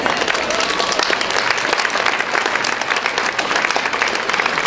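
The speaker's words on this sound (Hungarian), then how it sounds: "Szóljon nekik még egy taps!" Audience applause at a Hungarian folk dance festival in Marosszentgyörgy, honoring children in Székely costume: steady, dense clapping from a large crowd, continuous and fairly loud throughout.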